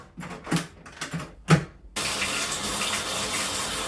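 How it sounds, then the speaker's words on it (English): A few soft knocks and fiddling sounds come first, then a bathtub tap is opened and hot water pours out in a strong, steady, close rush that fills the rest. "making sure you're getting hot water from the bathtub, so just keep pouring it out until it's actually steaming hot"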